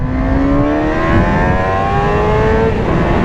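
A 2008 Suzuki GSX-R 750 in its restricted 106-horsepower version revs loudly nearby, its pitch swelling upward and then easing back down, without any speech.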